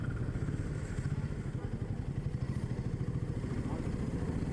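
A Royal Enfield Himalayan motorcycle rides through highway traffic, its low engine thrumming steadily and fairly quiet beneath heavy wind rumble.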